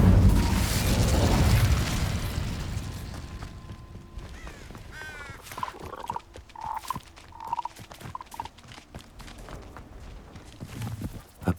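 A fire spell goes off in Hogwarts Legacy on PS5 with a loud, roaring blast at the start that trails into crackling game effects and scattered ambient sounds, with no voices.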